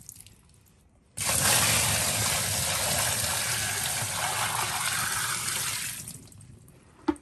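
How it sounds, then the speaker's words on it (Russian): Hot water suddenly gushes and pours steadily into a washing machine for several seconds, loud and close, then tapers off and stops. "Вот, чтобы постирать, заливаю горячей немножко."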